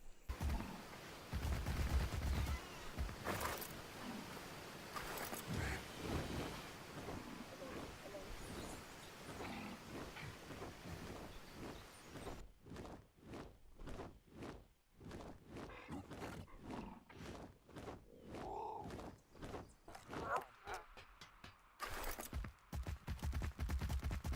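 Cannons fire in the video game Ark: Survival Evolved, producing a long run of repeated booming blasts, some in rapid clusters, over a continuous loud game background.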